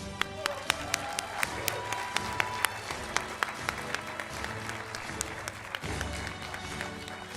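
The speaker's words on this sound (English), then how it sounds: "Big applause." Sustained audience applause at a 2022 dental medicine graduation ceremony: dense, steady clapping from a large crowd that holds throughout, with sharper individual claps standing out.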